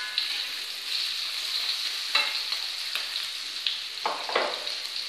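Tempe frying in a pan gives a steady bright sizzle, with several clear scraping stir strokes from a spatula rising over it at irregular moments. Close and alone, no talking.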